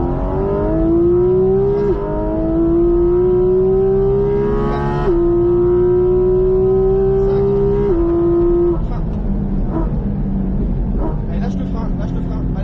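Porsche GT4RS engine on a racing circuit, loud and close, revving up through the gears in repeated rising pulls with short shift breaks, then easing off. An instructor's voice is heard over it.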